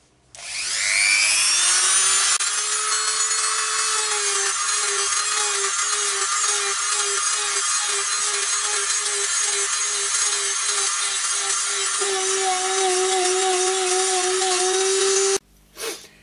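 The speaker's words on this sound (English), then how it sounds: "get the bowl back on the lathe and take some material off the inside" A wood lathe spins up and a tool cuts into the inside of a drilled tulipwood bowl, a loud sustained whine with a rhythmic chattering scrape throughout, stopping abruptly at the end.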